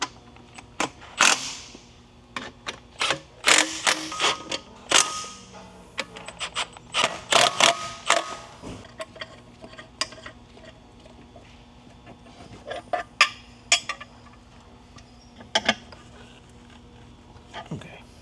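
Ratchet bolting up parts on a 2025 Civic Type R during intake and O2 sensor work, with scattered bursts of clicking and clanking, close and uneven, over a faint background hum.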